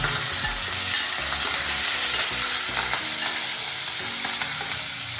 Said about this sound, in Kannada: ಹಸಿಮೆಣಸಿನಕಾಯಿ ಹಾಕ್ತಾ ಇದ್ದೀವಿ. ಇವಾಗ ಎರಡೂ ಫ್ರೈ ಮಾಡೋಣ.